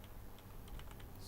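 Keys clatter on a computer keyboard as someone types C# code, a quick uneven run of close, crisp clicks with no voices.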